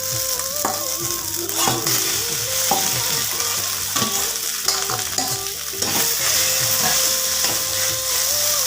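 Diced potatoes and ground cumin fry and get stirred in a pan, with a steady loud sizzle throughout and repeated scraping and clattering of the spoon against the pan, and no talking.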